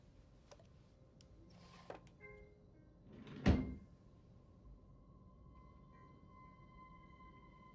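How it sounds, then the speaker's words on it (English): A drawer slides shut with one soft thud partway through, quiet and somewhat distant in a hushed room at night, with faint game sounds and small clicks around it. "she closed her drawer?"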